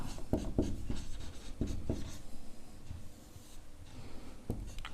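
Pen on paper writing out a maths solution for a class 9 exercise, quick scratchy strokes and taps in an irregular rhythm, close and moderately quiet with no voice.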